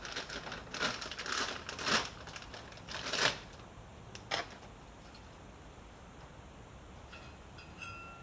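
A bag is crinkled and handled in several short, close bursts of rustling over the first few seconds, then falls quiet with faint background noise.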